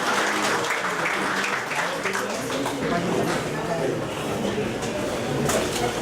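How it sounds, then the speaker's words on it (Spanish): An audience at a national risk-management seminar applauds to welcome the day's speaker, a loud, continuous wash of clapping that fills the room for several seconds, with some voices mixed into the crowd noise. "Damos la bienvenida con un fuerte aplauso a nuestro expositor del día de hoy"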